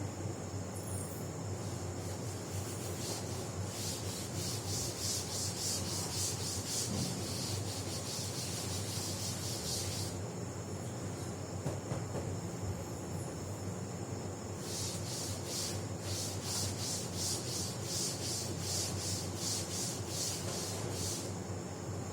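An eraser or duster rubs across a classroom board in long, steady strokes, producing a continuous scratchy swishing that pulses in repeated bursts, fairly faint and with no voices.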